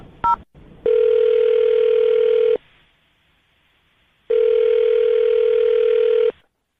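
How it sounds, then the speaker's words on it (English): A short dial beep, then two long electronic ringback tones separated by a pause of silence, clear and close. "I'm going to dial his phone number right now"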